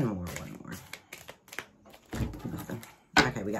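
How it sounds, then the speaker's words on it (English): Tarot cards are shuffled by hand in bursts of soft riffling and slapping, close and fairly quiet, with a voice talking softly between the shuffles. "One more shuffle."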